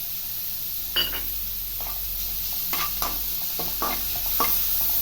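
Ginger-garlic paste sizzles in a pan with fried onions and green chillies for a raw banana and potato cutlet mix, with a steady frying hiss and scattered scraping stirs close by.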